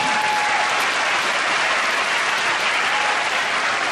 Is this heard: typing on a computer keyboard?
no